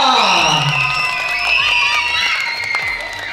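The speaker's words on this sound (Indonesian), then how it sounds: "Tepuk tangan yang meriah buat Juna." Children at a nine-year-old's birthday party at a playground clap, cheer and shout together, a lively close crowd with whoops and high excited voices over continuous applause.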